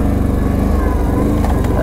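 A Can-Am Renegade 800 ATV engine drones steadily at close range during a test drive, a loud continuous buzzing rumble with no break.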